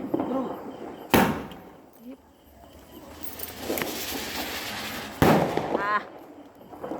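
Diwali sky-shot firecrackers burst outdoors in two loud, sharp bangs several seconds apart, each followed by crackling, with people's voices in the background.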